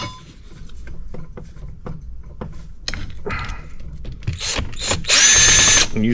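A power drill backs out shouldered screws from a 1964 steering column, with short bursts and clicks building to one long loud whine near the end.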